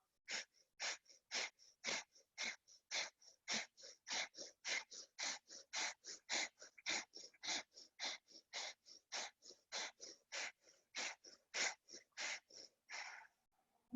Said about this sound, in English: take 25 counts of breath of fire. Quick exhale.